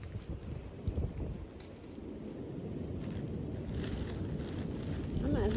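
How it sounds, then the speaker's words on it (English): Wind gusts hard across the microphone in an outdoor garden among strawberry beds, a constant low buffeting roar that builds toward the end, with a voice briefly audible. "I had to put this on because the wind's going crazy"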